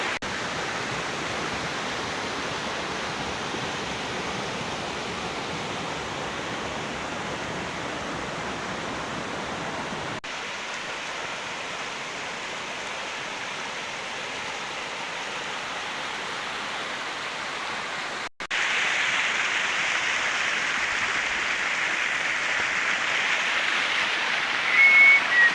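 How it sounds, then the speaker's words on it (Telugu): Gunagummi waterfall in dense forest pours with a constant broadband roar, steady and close, brightening and growing slightly louder toward the end. "చూస్తున్నారు కదా ఈ నట్టటి అడవిలో ఇలాంటి ఒక జలపాతాల దగ్గర ప్రశాంతమైన వాతావరణం"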